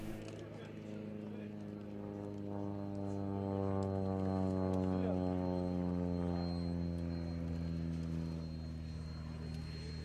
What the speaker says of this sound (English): Veloster 95 is a training aircraft produced by UTVA.